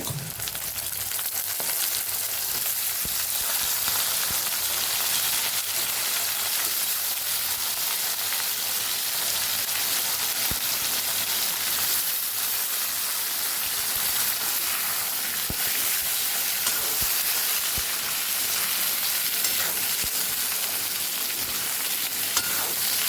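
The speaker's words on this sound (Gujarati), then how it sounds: "રીંગણા પણ સરસ કોટિંગ થઈ જાય ત્યાં સુધી આપણે એને ફ્રાય કરવાના છે" Eggplant and potato pieces fry in a hot pan for a long stretch, giving a steady, dense sizzle with occasional soft clicks of stirring and no voices.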